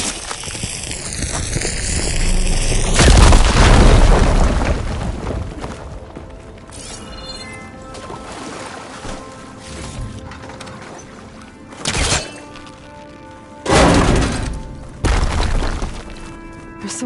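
Blast blowing open a blocked tunnel in Horizon Forbidden West, a loud booming crash with shattering debris, followed by quieter rumbling and a few later sharp thuds.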